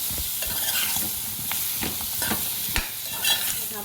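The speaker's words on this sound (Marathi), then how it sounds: "तीन कापून ती लांबी वांगी आहेत ती घेतलेली आहेत मी ती लगेच परतून घ्यायची" Sliced long brinjals being stir-fried with masala in a pan: a steady low sizzle with repeated scraping strokes of a spatula, some sharper clacks, close and moderately quiet.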